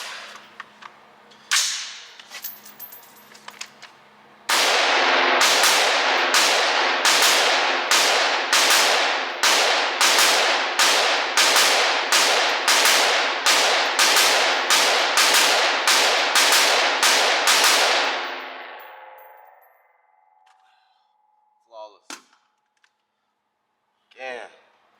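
A PSA Sabre 15 rifle fires a rapid string of roughly twenty loud, sharp shots in steady rhythm after a couple of isolated opening shots, then falls quiet as someone talks.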